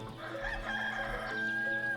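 Chickens and a rooster on a farm in the village-building game Ostriv, a steady crowing and clucking bed with a drawn-out crow rising near the end, fairly loud and continuous with no talk.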